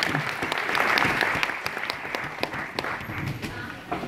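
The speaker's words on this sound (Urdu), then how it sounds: "تو اپنے لیے تالیاں ذرا بجا دیں ایک بار زور سے" An audience at a gathering in Frankfurt applauds, a dense, loud wash of many hands clapping that swells early and then slowly tapers off, with no clear talk over it.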